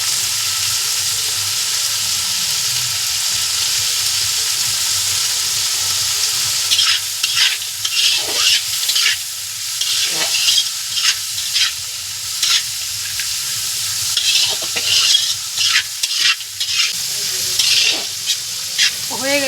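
Raisins and cashews stir-fry in a wok under a steady loud sizzle, with a spatula scraping and clattering in irregular bursts during the second half.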